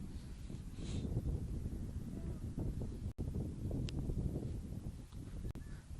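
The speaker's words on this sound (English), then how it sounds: "And the wind picked up a little bit." Wind gusts across an outdoor girls' soccer showcase match, a steady low rumble of breeze buffeting the microphone, fairly faint with a few brief clicks and no clear talk.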